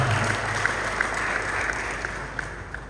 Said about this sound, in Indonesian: tepuk tangan juga buat Pak Kanwil kita